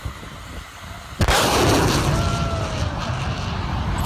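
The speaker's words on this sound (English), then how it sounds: "When a jet rips past the sound barrier, the shockwave slams into everything." A sharp, loud boom from a supersonic jet breaking the sound barrier, striking suddenly after quiet and followed by a sustained roaring rumble of the aircraft passing overhead, close and powerful.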